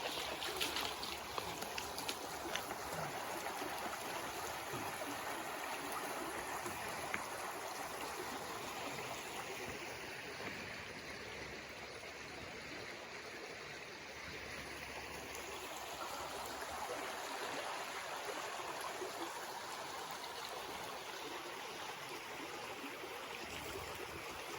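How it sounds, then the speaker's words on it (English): River flowing past a trail bridge in the Maine woods along the Seboeis, a steady broadband rush of water that holds even and unbroken throughout, with no voices. "I'll let you listen to the river sounds for a moment."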